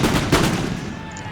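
Artillery fires grape shot in a Waterloo battle in the video game Napoleon Total War, a short loud crackling volley with a couple of sharp reports close together, then a fading rumble.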